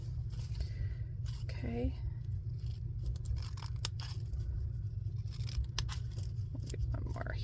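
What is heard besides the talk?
scissors cutting paper strips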